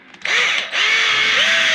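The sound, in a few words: power drill driving trim screws into motorhome vinyl trim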